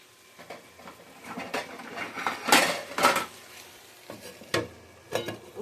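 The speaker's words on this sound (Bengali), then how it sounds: "একটু ঢাকা দেই, কারণ আলু আছে তো, একটু ঢাকা দেই।" A lid goes onto a pan of cooking potatoes in a home kitchen: a few sharp metallic clanks and scrapes of cookware between softer stirring rustles, close and fairly loud, with no talking.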